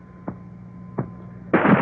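Gunfire from the Tomb Raider video game with Lara Croft: two sharp, separate shots a little under a second apart, then a louder sustained burst of blasts at the end, with no talking.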